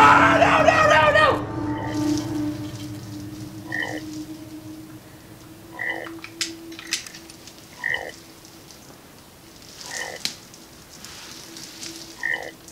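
Repeated frog croaks in the horror VR game The Exorcist Legion, short, evenly spaced calls about every two seconds after a loud burst of noise at the start, fairly close and clear over a low steady hum.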